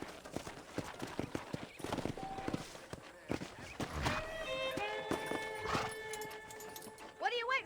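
Horse hooves clip-clop in the video game Red Dead Redemption, a quiet, irregular series of hoof knocks blending with music tones and voices talking.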